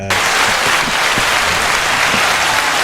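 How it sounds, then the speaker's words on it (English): A burst of steady applause from a crowd, many hands clapping densely and evenly for a few seconds with no voices over it. "please play the clapping every time I talk"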